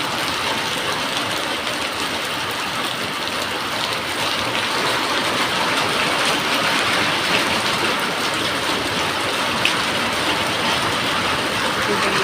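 Steady, dense rain pours down in a continuous broadband hiss throughout, fairly close and even in loudness, with no distinct thunderclaps.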